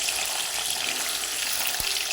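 Paneer pieces fry in oil in an iron kadai, a bright continuous sizzle up close with one dull knock of a utensil partway through.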